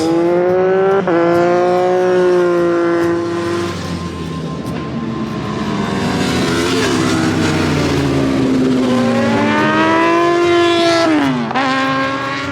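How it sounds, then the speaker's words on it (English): Several motorcycles roar past nearby on a road, engines rising and falling in pitch as they approach and recede, with overlapping revving and a sharp downshift near the end, loud and continuous with no talk. "Here comes some bikes. There's bikes everywhere."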